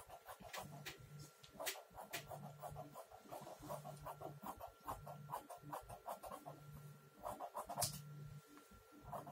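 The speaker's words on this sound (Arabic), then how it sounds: "هقص كده اهو" Scissors cutting through blouse fabric, a quiet, close series of rhythmic snips and rasping crunches repeating at a steady pace, faint and without talk.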